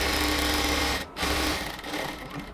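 An electric sewing machine stitches a salwar pant border in a loud, fast, continuous whir close by, briefly stopping for a moment before running on again.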